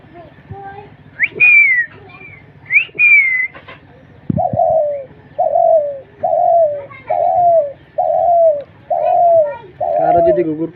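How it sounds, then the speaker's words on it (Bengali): A tame pagla ghughu dove calls up close, first two high rising whistled notes, then a steady series of about six soft, even coos spaced roughly a second apart, with no talk over it. "তো এটা হলো পাগলা ঘুঘু।"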